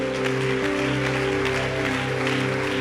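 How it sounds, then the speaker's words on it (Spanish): Congregation claps together during a church service, brisk continuous applause layered over sustained keyboard music, fairly loud and even. "Alguien puede aplaudir al Rey de Gloria aquí más fuerte."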